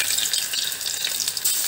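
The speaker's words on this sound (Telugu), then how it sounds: "ఇప్పుడు వీటిని డీప్ ఫ్రై చేసుకుందాము డీప్ ఫ్రైకి సరిపడా ఆయిల్ వేసుకున్నానండి ఆయిల్ అయితే హీట్ ఎక్కింది" Cauliflower pieces deep frying in hot oil, a dense, continuous, bright sizzle with fine crackling, steady and close throughout.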